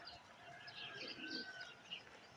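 Pigeons on a rooftop give soft, continuous cooing and chirping, faint and at a middle distance, with a brief flutter of wings near the end.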